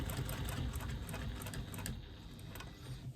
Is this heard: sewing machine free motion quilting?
yes